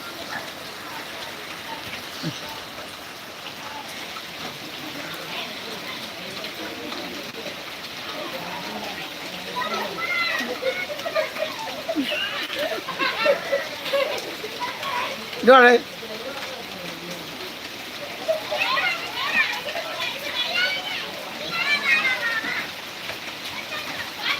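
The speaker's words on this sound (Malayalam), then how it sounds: "അതിശക്തമായ മഴ" Heavy rain pours steadily as a dense hiss of water splashing on surfaces, with people talking at times over the downpour.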